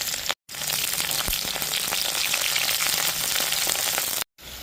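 Onions fry in hot oil in a pan, a dense, steady sizzle that stays close and fairly loud, broken by two very brief dropouts near the start and the end.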